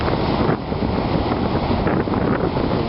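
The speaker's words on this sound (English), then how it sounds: "The wind is producing some pretty amazing waves. This is the mild Gulf of Mexico." Strong wind buffets the microphone over rolling surf on a Gulf of Mexico beach at Perdido Key, a dense, continuous roar with gusty swells and no voices.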